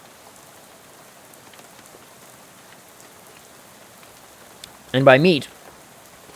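Steady soft rain patters throughout a scene in the video game Shadow over Loathing, a faint even hiss, briefly covered near the end by a short burst of speech.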